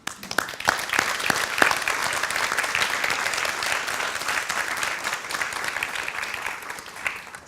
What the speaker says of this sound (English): let's give a big round of applause to Jung-un and Seung-seok